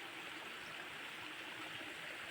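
Water flows in a steady, unbroken rush at a waterfall stream, a soft continuous hiss with no voices, even in level from start to finish.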